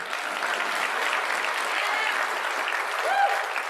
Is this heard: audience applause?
yes